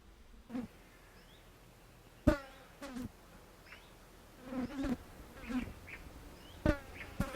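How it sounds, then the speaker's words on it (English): A swarm of flies buzzes outdoors by a squirrel feeder, faint insect drones rising and passing near the listener in several short, uneven bursts against a quiet background. "It's absolutely swarming with flies around us, and you'll probably hear it on the audio."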